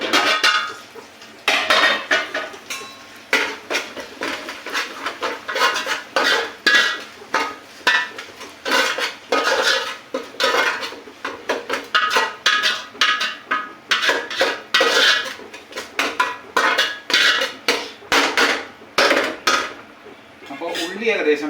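A spoon scrapes and clinks steadily in a metal pan while onions are stirred during curry cooking, in rapid repeated strokes that are close and fairly loud.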